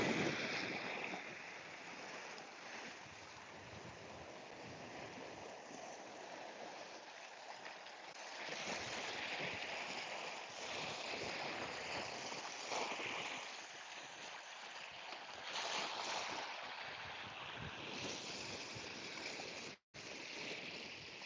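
Sea at St Cast in Brittany, a steady wash of waves and surf rolling in, swelling and easing over about twenty seconds, with some wind buffeting and no talk.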